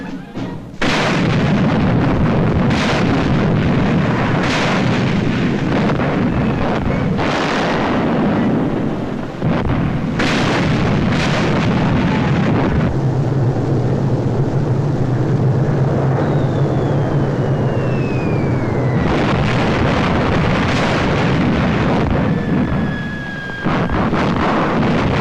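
Artillery fire and explosions from old wartime newsreel footage of the Italian invasion of Ethiopia, repeated loud booms rumbling over a constant roar, heavy and distant-sounding, with a few whistling shells.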